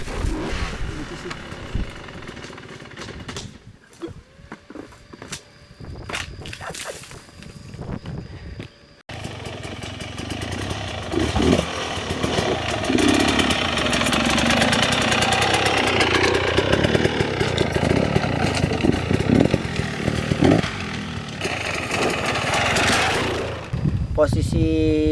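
A motorcycle engine runs in gear on a downhill road with the brake held, a steady mid-level drone that rises and thickens in the second half, with people talking over it.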